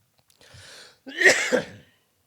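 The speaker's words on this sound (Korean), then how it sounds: "기침이 안 났는데 갑자기 또 나네요." A person coughs twice close up: a short throat-clearing rasp, then a louder, harsher cough, followed by silence.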